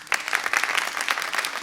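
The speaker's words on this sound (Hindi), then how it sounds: "इस्तकबाल कीजिए भरपूर तालियों में इकराम मेहदी साहब।" An audience claps in a sustained round of applause welcoming singer Ikram Mehdi onstage at a music gathering, steady and fairly loud throughout.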